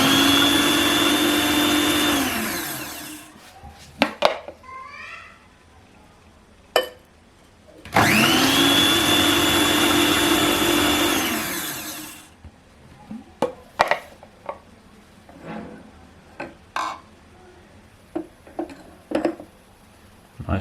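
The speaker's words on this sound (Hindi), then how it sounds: "ऐसे कुकिंग ऑयल डालते जाना है थोड़ा थोड़ा करके और ब्लेंडर को चलाते जाना है।" Blender whirring while homemade mayonnaise is made with cooking oil added little by little, two loud sustained runs of motor whine separated by pauses filled with clinks and handling noises.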